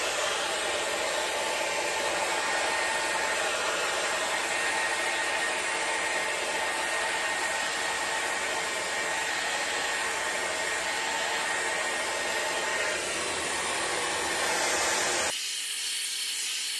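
Dyson Airwrap hair styler on its hot setting, blowing air while curling hair, a loud steady whooshing roar with a high whine held close for about fifteen seconds before it cuts off abruptly.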